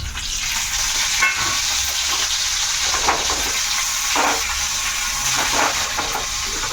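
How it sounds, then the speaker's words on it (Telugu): Cumin seeds, dried red chillies and curry leaves splutter in hot oil for a coriander-tomato-coconut chutney, a continuous close hiss and crackle with a few louder bursts, no voices. "ఇప్పుడు అయితే నేను ఇక్కడ నూనె కాగింది, కొంచెం జీలకర్ర ఎండుమిర్చి కలిమాకు వేసుకుంటున్నాను."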